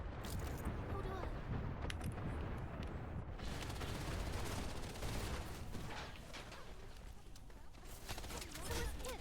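Gunfire in the video game Wild Assault: sustained rapid bursts and booming shots crackle loudly and continuously, a dense firefight with heavy low rumble throughout.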